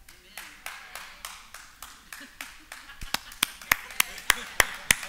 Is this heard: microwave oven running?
no